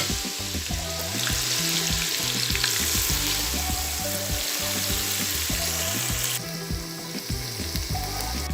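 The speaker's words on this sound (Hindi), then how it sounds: "प्याज को हम गोल्डन ब्राउन होने तक पकाएंगे" Onions fry in oil with cloves and black pepper, sending up a dense, continuous sizzle close by, broken by rhythmic scraping and clattering of a stirring spoon throughout, with no talking.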